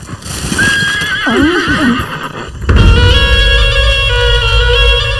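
A horse pulling a cart gives a loud, close whinny that rises and wavers, then its hooves clip-clop steadily on the road with a rumbling undertone.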